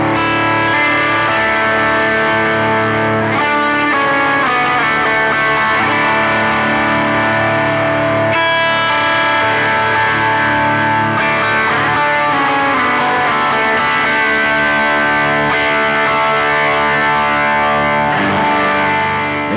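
An electric guitar through a Line 6 POD Go plays a lead line with a boosted, driven tone, sustained notes ringing loud and full throughout.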